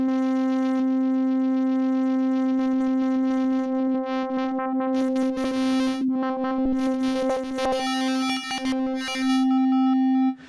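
A SkyDust software synthesizer holds a steady buzzy harmonic tone while an LFO steps noise modulation in and out, adding bursts of hiss and glitchy stepped texture before the note cuts off.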